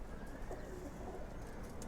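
Low, throaty cooing from silver pigeons, fairly quiet and continuous, with a faint higher chirp near the end and no voices.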